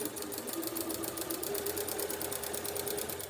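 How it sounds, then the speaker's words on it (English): A sewing machine top stitches along a coat seam in one steady, continuous run of fast, even needle clatter, close up and moderately loud. "I'm going to top stitch down either side of this seam"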